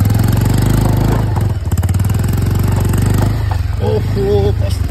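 A motorcycle stuck partway along a road on a trip to Karpu Dada, its engine running steadily with a low, throbbing idle close by while people talk over it.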